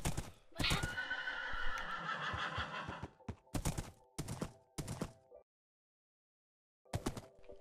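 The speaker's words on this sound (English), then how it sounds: "I'm not sure if that's a mule or a donkey." A Minecraft donkey or mule brays in a loud, raspy, drawn-out call, followed by several short choppy hoof-like clops, then silence and one more clop, with no talking.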